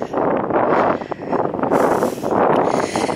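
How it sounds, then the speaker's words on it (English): Wind blowing across a riverbank walk along the River Parrett, loud gusty buffeting on the microphone that surges, dips briefly, then swells again. "The wind can't decide if it wants to be in front or behind. It's coming from the side."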